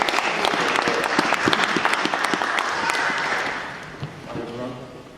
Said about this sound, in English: So, can we give a round of applause for Angelos?